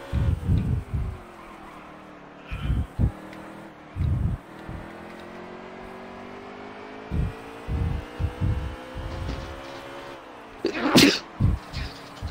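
A short, sharp sneeze stands out near the end over a steady racing-game engine drone from a NASCAR Heat 3 session at Martinsville, with a few brief voices scattered throughout.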